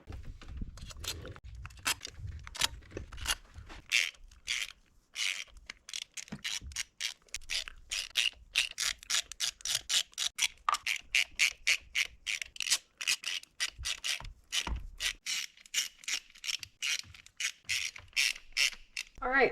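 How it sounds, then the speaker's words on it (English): Bolts are reinstalled with a ratchet on an Audi B7 RS4 engine. The ratchet clicks in rapid, repeated bursts, close and crisp, with short pauses between runs. "I'm going to start putting these bolts back in."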